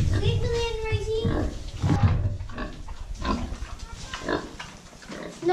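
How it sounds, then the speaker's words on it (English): Pigs on a farm grunt and squeal close by during feeding chores, mixed with a child's and adult's voices talking over them. "So these pigs aren't letting me sit."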